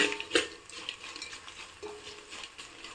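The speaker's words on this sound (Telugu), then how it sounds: "ఇప్పుడు వెల్లుల్లి కూడా కొంచెం ఫ్రై అయింది కదా" Garlic and amaranth greens frying in a pan, a soft sizzle with a few clinks and scrapes of a utensil against the pan, close and fairly quiet with no talking.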